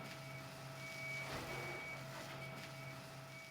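Garbage trucks unloading green waste at a waste treatment site: a steady train of reversing beeps over a low, distant truck rumble, faint and continuous throughout.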